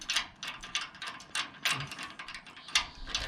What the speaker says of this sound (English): This thing screws all the way down onto here so it can't separate.